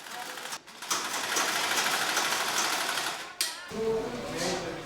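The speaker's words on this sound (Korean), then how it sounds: "아이들의 교복을 만드느라 쉴 틈 없이 재봉틀이 돌아가는데요." A sewing machine runs almost continuously while school uniforms are stitched in a Burundi or Tanzania village workshop, its fast mechanical whir stopping briefly twice before starting up again.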